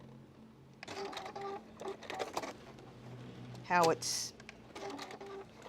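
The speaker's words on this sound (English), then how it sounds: "Put a little secure stitch in there. Sew down a little bit" A sewing machine stitches a quilt corner in short bursts of rapid mechanical whirring, separated by pauses, with a speaking voice heard between the runs of stitching.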